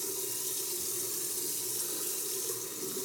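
Tap water running steadily into a bathroom sink during a shave, a continuous close hiss and splash with no voices.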